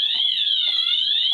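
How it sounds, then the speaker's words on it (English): A high-pitched electronic alarm sounds continuously in a shrill, steady warble, loud and close, with faint rustling beneath it and no talk. "that's the pussiest alarm I've ever heard in my life."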